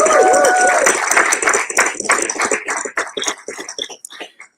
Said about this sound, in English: Big round of applause for 5 years of ALVA.